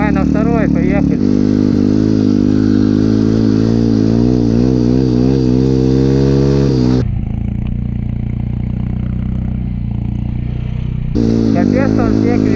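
A Chinese pit bike motorcycle rides on a frozen river through snow, its loud, close engine buzzing and rising and falling as the throttle is opened, then dropping to a steady idle-like drone before revving again.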